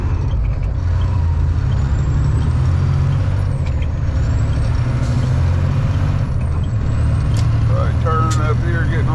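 A big truck moving through town during an ice storm, a heavy low engine rumble with air-brake hisses and faint high squeals, under a steady in-cab drone while someone talks.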